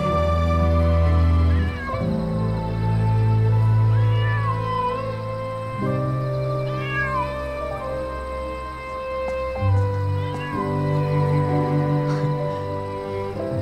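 A small cat meows several times in a drama scene, the short rising cries set over continuous background music.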